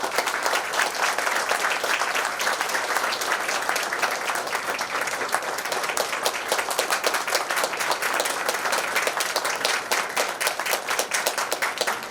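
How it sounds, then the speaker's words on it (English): Sustained audience applause filling a lecture hall at a memorial day event, steady dense clapping from many hands throughout without a break. "A big round of applause."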